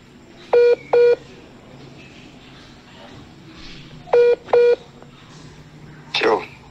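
A telephone number is dialed with DTMF keypad tones, two crisp pairs of beeps about three seconds apart, loud and close, followed by a brief burst of another sound.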